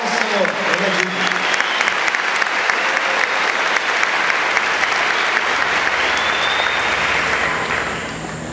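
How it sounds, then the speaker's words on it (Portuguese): A church congregation claps loudly and continuously during a worship service, a dense sustained wash of applause with scattered voices and cheers mixed in, tapering slightly at the end. "Aplauda ao Senhor, Ele é digno."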